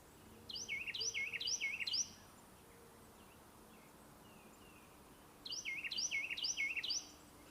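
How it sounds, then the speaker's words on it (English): A Carolina wren sings two clear phrases of rapid repeated whistled notes, each about four notes long, separated by a pause, faint against quiet outdoor ambience. "There's a Carolina wren right in front of me."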